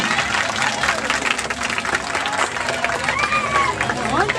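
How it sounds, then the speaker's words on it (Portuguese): Crowd applause at a quilombola association's tenth anniversary celebration, steady dense clapping with cheering voices and whistles mixed in, loud and close throughout. "Aplausos aí, gente."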